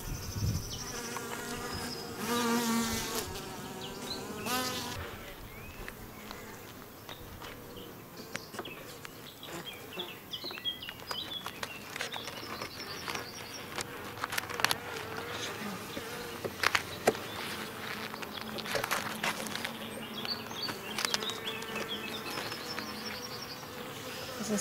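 Bees buzzing around an open beehive during swarm control and honey harvest, a dense continuous drone of many insects close by, with handling noises and brief knocks, and a person speaking at times.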